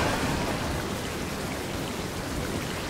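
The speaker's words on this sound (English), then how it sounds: "Make it rain, make it rain." Steady rain falls in a video game, a dense even hiss of drops that runs unbroken throughout, alone and without talk.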